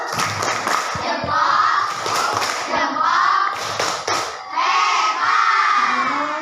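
A group of participants performs a rhythmic 'tepuk hebat' clapping chant during a teacher coaching session, bursts of patterned claps and thumps mixed with lively shouted voices, loud and close, in several short waves.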